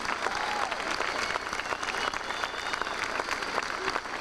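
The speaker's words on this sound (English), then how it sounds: "I want you all to give yourself a hand, because look at the size of this crowd" Sustained applause from a large rally crowd at an outdoor 1994 political gathering, dense steady clapping filling the whole stretch with crowd noise mixed in.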